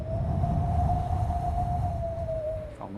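A man imitates howling wind with his voice, holding one steady, slightly wavering whistle-like tone for about three seconds over a low background rumble, as a party trick on a comedy show.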